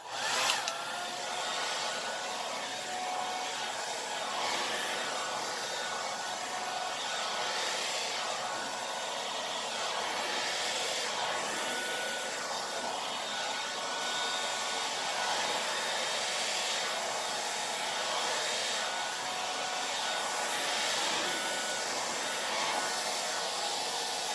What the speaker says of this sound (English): make the inks dance together by moving your blow dryer around in circular motions